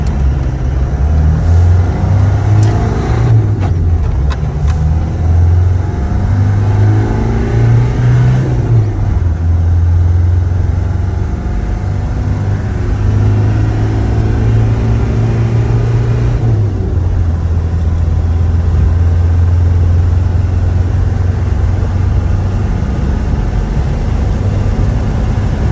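Land Rover Defender with a 300 TDI diesel engine driving on the road, its steady low engine drone rising and falling through gear changes, loud and close throughout with no talking.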